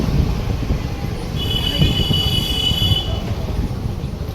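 A metro train rumbles past near a station with a loud, steady rolling roar and a thin, high wheel squeal in the middle, heard close by.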